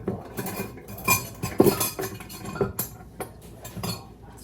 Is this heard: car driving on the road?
no